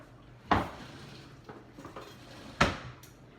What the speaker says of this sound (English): let me grab a knife real quick